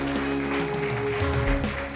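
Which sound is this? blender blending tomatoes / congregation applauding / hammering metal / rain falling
congregation applauding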